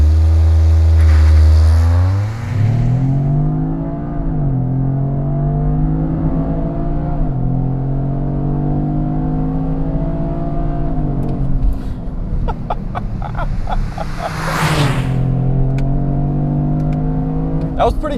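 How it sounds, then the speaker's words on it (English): A 2025 Toyota GR Corolla with an 8-speed automatic launching under launch control: the engine holds high revs, then pulls hard through the gears with rising and dropping pitch at each shift, loud and close from inside the cabin. "launch, ready, left foot on the brake, mat it, build some boost"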